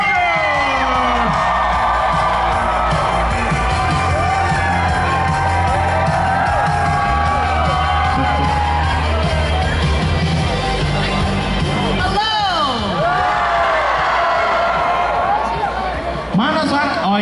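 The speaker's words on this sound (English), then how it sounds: "please give a big round of applause" A large audience at an Indonesian comedy show cheers, whoops and shouts loudly to welcome actress Cobie Smulders onstage, a dense, continuous roar of the crowd with excited voices rising over it throughout.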